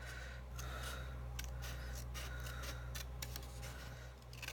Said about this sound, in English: So I'm just going in here with my scissors, and I am going to trim this little piece off.